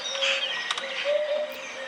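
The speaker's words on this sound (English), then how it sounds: "That's Happy's bird call" A hoopoe calls in soft, repeated hollow notes, fairly faint, against a quiet outdoor background with a few brief chirps.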